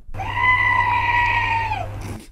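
A horror scream sound effect: one loud, sustained, high wailing shriek lasting about two seconds, heard alone, holding steady before tapering off at the end.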